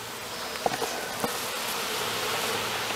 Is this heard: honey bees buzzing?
yes